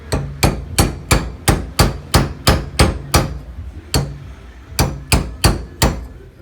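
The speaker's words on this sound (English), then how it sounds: "And we're just going to tap it with this cold punch away from it." A cold punch is struck with a hammer to drive out a wheel bearing on a Jayco Eagle 8 Series pop-up camper. About fifteen sharp, close metallic taps land in a steady rhythm, in two runs separated by a short pause.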